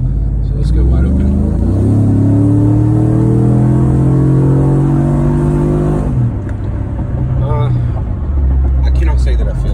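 A car with a 6L80 automatic transmission is driven at wide open throttle, its engine a loud, steady roar whose pitch climbs through the revs, drops around a shift, and keeps pulling, heard from inside the cabin.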